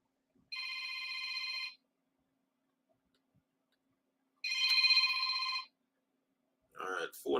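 A telephone rings twice on a live call-in sports talk show, two bright electronic bursts separated by a pause, close and clear, followed by a brief voice at the end.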